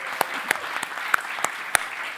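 Audience applause for panelists at a startup ecosystem fireside chat event, a brief spell of scattered, fairly soft clapping with a few distinct sharper claps.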